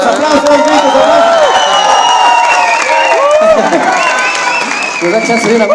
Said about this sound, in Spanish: Gritos, aplausos, gritos,